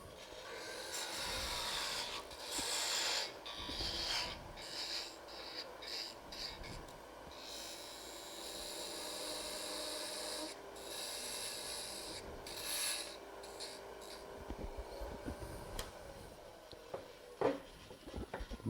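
A bedan tool cuts a small wooden Christmas tree spinning on a lathe, giving an uneven scraping, hissing rasp with bursts and pauses over a faint hum, fairly quiet and heard alone.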